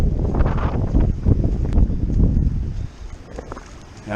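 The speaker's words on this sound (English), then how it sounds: "that wind's still pretty strong" Strong gusty wind on the coast during Tropical Storm Elsa, buffeting the microphone in loud, irregular rumbling blasts that ease off briefly near the end before picking up again.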